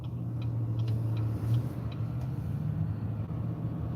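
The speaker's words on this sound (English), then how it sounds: "Put the exhaust brake in." Exhaust brake on a 2019 Duramax diesel dually truck, a steady low rumble with faint rapid ticking on top, heard from inside the cab without talk.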